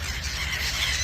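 Birds squawking and squealing as they approach to be fed, a dense, continuous chorus of harsh calls at close range with steady loudness throughout.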